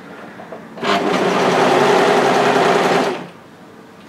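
A serger overlocker sewing machine whirs to life, holding a loud, steady close-up motor hum with a rapid needle chatter for about two seconds before winding down to quiet.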